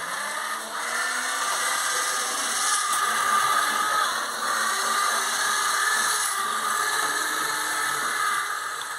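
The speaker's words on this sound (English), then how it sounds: "The next part of the video is the railcar running before the gear was filed." A small Lima GWR model railcar runs continuously before its gear is filed, giving off a steady, harsh, buzzing whine with a grinding rattle and slight swells in loudness.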